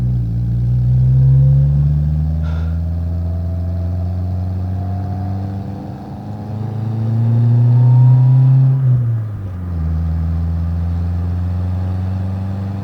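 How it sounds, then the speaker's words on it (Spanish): Fiat Uno Turbo engine accelerating on a road, a loud close drone rising in pitch through the revs, easing off, then climbing again after a gear change, with no talking. "El motor es una delicia como va, me encanta."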